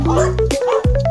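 A dog yips and whimpers briefly nearby on an outdoor walk, short sharp barks mixed with a droning hum and overlapping voices.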